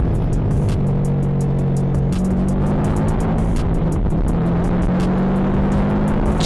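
A car speeding at about 100 mph in the Philippines, a steady loud roar of engine and road noise with a droning tone that shifts slightly, heard from close up with no break.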